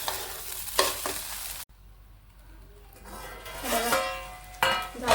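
Sabudana khichdi with potato being stirred and mixed in a pan, spoon scraping and sizzling in bursts, with a brief quiet gap partway through before the clattering stir picks up again.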